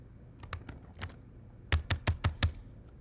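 Someone is typing on a computer keyboard, first in scattered light taps and then in a louder, rhythmic burst of about six close keystrokes, with no voices.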